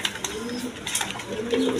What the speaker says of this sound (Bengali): এখানে এক পেয়ার আপনার গিরিজাল কবুতর আছে